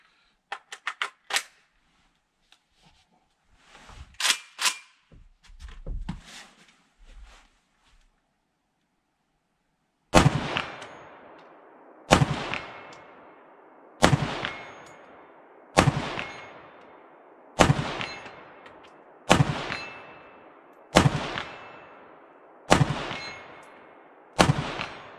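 A Bulgarian Arsenal SLR-104FR AK-74 rifle fires single shots at steel targets 100 yards out, nine loud evenly spaced cracks each trailing a ringing decay, after quieter handling clicks and rustles.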